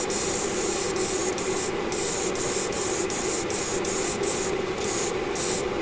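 An airbrush sprays a light coat of antique brass yacht varnish, a steady hissing rush with a few brief sharper bursts of spray.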